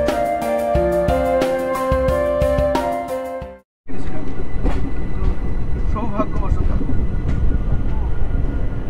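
An Amaravati Express train running on the Shalimar to Madgaon route, heard from inside a second AC (2AC) coach: a steady, loud rolling rumble fills the last five seconds, after a brief passage of music that cuts to silence.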